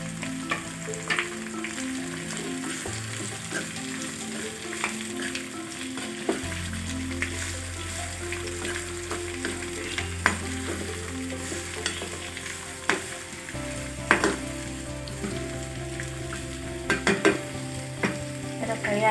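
Chopped onions frying in a pan for a simple onion gojju curry, with a continuous close sizzle, scattered spoon scrapes and stirring clicks, and a low steady hum running underneath throughout.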